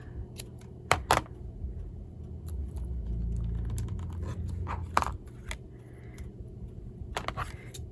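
Scissors that are not sharp cut through paper or card in a few quick snips and scrapes, with a low rumble in the background and no talking.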